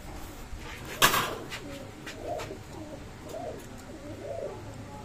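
A Teddy breed pigeon coos in soft, repeated low rolling phrases, close by, after a sharp knock near the start.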